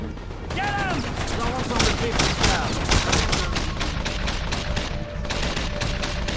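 Dense, continuous gunfire and machine-gun bursts from the Mercenaries 2: World in Flames game rattle nonstop with loud cracks, while someone talks over the battle.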